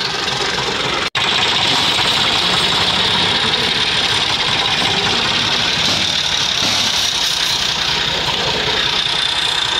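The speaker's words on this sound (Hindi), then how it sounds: "तो ट्रैक्टर स्टार्ट हो चुका" A tractor engine running after being push-started on a cold morning, a loud steady mechanical roar with a rough knocking texture that holds continuously for ten seconds after a brief cut near the start.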